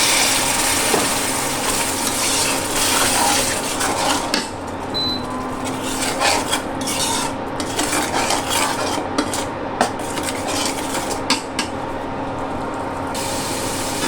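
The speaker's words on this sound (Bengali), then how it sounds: "মশলাটা ভালোভাবে কষিয়ে নিলাম।" Spices and salt are sautéed in a pan in a home kitchen: a spoon scrapes and clatters steadily against the metal, with continuous stirring and a soft background hiss.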